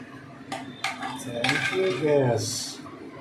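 A metal spoon knocks and scrapes against a pot as mutton curry is stirred on a gas stove, giving a few sharp clinks followed by a longer rattling scrape, close and fairly loud.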